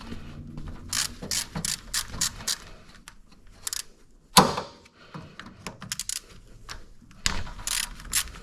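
A ratchet clicks in quick repeated bursts, loosening 10mm valve cover bolts on a Honda Acty engine. The close, crisp ratcheting stops briefly for a sharp metallic clunk, then carries on.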